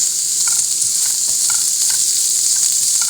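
Beans with spices fry in a hot pan for a breakfast dish, a loud, continuous close sizzle with a steady hiss and faint stirring ticks throughout.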